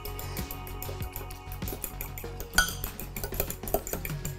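Apple French toast baked oats are mixed in a bowl, with a utensil clinking and scraping against the dish in a busy, irregular rhythm, a few sharper knocks standing out, close by with no talking.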